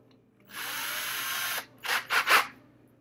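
Small electric drill with a small bit boring a shallow hole in a 1/4 scale model kit, a steady whirring run of about a second followed by three short quick bursts, close and clear.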